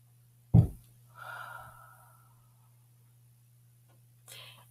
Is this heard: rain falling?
no